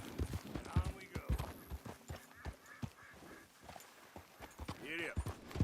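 Horse hooves clip-clop in Red Dead Redemption 2, a close, uneven series of hoof strikes mixed with game ambience, honking waterfowl calls and speech.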